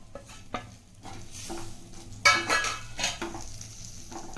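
Fried ivy gourd stirred into a spice paste in a pan, with a spoon scraping and clinking against the metal in irregular strokes over a soft sizzle, close by.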